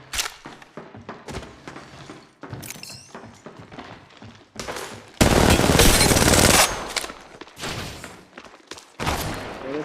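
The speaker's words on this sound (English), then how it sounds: "I am taking fire." Gunfire in the mobile game Apex Legends Mobile, with sharp single shots and short bursts followed by a loud sustained stretch of rapid automatic fire, then more scattered shots; brief game voice lines occur between them.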